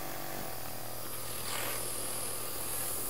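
An airbrush compressor gives a steady mechanical hum and hiss without a break, close by and even in level, like a small motor running continuously.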